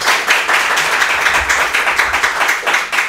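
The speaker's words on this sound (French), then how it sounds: "On va applaudir s'il vous plaît, cher public." Studio audience at a French-language school quiz show applauds loudly and steadily, a dense wash of many hands clapping with slight rhythmic swells throughout.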